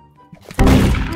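In Roblox Murder Mystery 2, a knife stab lands with a sudden heavy thunk and a crunchy burst. A few faint ticks come before it, and the hit then rings on loud and close.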